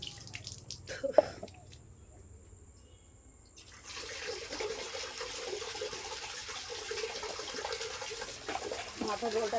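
Water pours over a person's head while bathing, first a few drips and splashes in near silence, then a steady, moderately loud stream of splashing water that continues to the end, with voices talking nearby.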